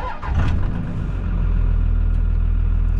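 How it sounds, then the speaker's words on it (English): A 24V Cummins diesel truck cranks and fires up on a cold morning, catching after a short crank and settling into a steady, loud, rumbling idle close by. "And then I'm gonna go ahead and fire my truck up."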